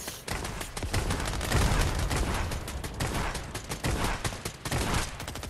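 Rapid bursts of gunfire from a Fortnite Battle Royale squad match crackle almost continuously, dense and loud with layered automatic fire and a few heavier thumps.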